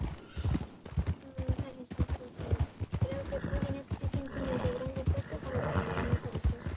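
A horse in the RedM video game clip-clops in a steady, close rhythm with a brief whinny, while people talk over the hoofbeats throughout.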